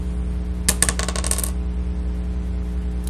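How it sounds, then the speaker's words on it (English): Dice rattle and tumble across a hard surface during a biomagnification classroom lab, a brief cluster of sharp clicks lasting under a second over a low steady hum. "So next I'm going to roll the dice for the sardine."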